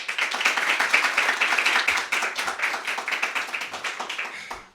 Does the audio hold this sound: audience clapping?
yes